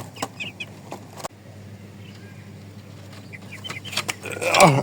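Desi chickens cluck in short, scattered bursts, some near and some farther off, over a low background hum, and grow louder and busier toward the end.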